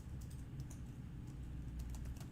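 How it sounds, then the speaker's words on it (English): Faint typing on a computer keyboard, with a few soft, scattered key clicks over a quiet low hum. "I start typing"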